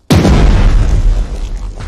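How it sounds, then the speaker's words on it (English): A single heavy naval cannon blast from the Pacific war strategy game Strategic Mind: The Pacific: a sudden loud boom followed by a long, deep rumbling decay, with no voices. "Just a bunch of cannons going off everywhere."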